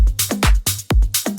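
An Afro house drum loop thumps with punchy kicks and percussive hits under crisp hi-hats in a driving pattern, loud and up front with no talking.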